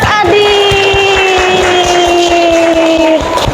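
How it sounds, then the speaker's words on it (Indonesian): Classroom applause for a student named Adit at an elementary school: rapid, steady clapping runs for several seconds beneath a long, held voiced cheer from the children. "beri tepuk tangan untuk Mas"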